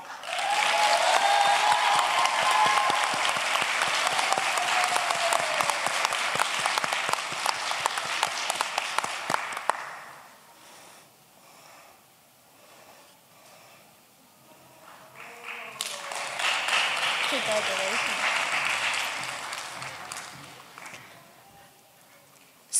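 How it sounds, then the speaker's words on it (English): Audience applause at a commencement ceremony: sustained dense clapping for about ten seconds, a short quieter lull, then a second burst of applause that swells and fades, heard from within a large crowd. "So please join me in giving a round of applause to all of our graduates who are here today"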